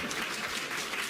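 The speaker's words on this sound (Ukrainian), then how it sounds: "Ще мало плески" Faint, continuous applause rises from an audience at a Rusyn studio performance, a short even wash of clapping.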